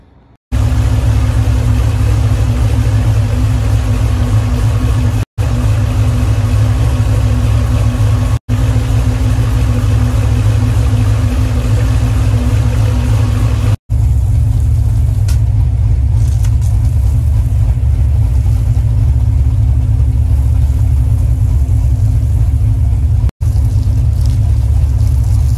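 A repaired car engine idles steadily at close range after being started, a low constant rumble with a faint hum, with no talk.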